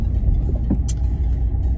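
Steady low rumble of a car driving on a potholed road, with a few faint bumps and a brief rattle over the continuous road noise.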